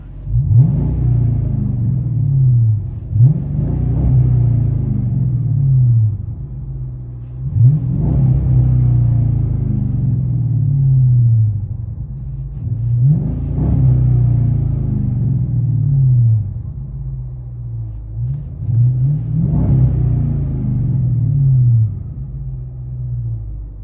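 Chrysler 300C with the 5.7L HEMI V8 and a modified exhaust heard from inside the cabin, a loud deep rumble swelling in five repeated revs that rise and fall back to a throbbing idle.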